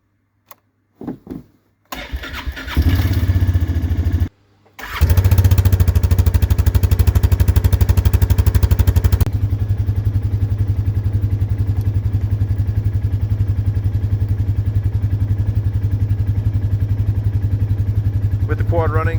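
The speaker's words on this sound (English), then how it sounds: "With the quad running" A 2021 Polaris Sportsman 450 HO ATV cranks over with a few short bursts, catches and settles into a steady, loud idle close by.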